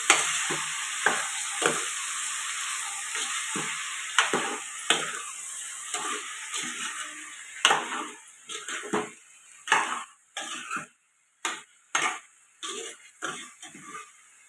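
Ivy gourd fries in a pan while being stirred, a steady hiss of sizzling oil with regular scrapes of a spatula that turn into distinct, rhythmic knocks against the pan toward the end, close and with no talking.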